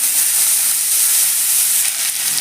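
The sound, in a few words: pumpkin greens stalks frying in mustard oil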